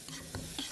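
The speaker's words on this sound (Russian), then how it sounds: "Лук, имбирь, чеснок и сушеные креветки жарим вместе." Onion, ginger, garlic and dried shrimp stir-frying in a hot pan, a short burst of sizzling with quick stirring scrapes, close and fairly quiet.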